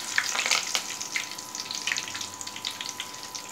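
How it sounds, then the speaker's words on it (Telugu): Curry leaves frying in a pan with onions and peanuts while making ullipaya karam, a soft crackling sizzle with a few brief pops, close but fairly quiet, no voices. "ఇప్పుడైతే కరివేపాకును కూడా దీంట్లోనే వేసి ఇలా ఫ్రై చేసుకోవాలి"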